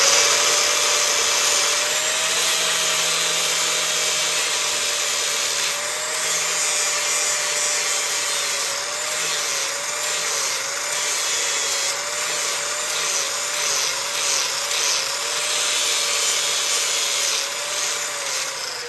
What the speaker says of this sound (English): It's also very critical when you're using the barrel sander to keep it moving